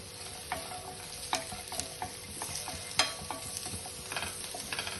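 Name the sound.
frying onion and garlic for Kundapura chicken curry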